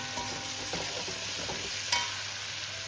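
A capsicum dish is stirred in a pan over a gas stove, with soft scraping strokes and a quiet, steady background sizzle, one brief clatter near the end.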